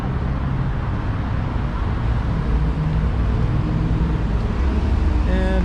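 Steady roadside traffic noise from cars passing along West 4th Avenue in Vancouver, a continuous low rumble of engines and tires filling the whole stretch at constant loudness, with no voices.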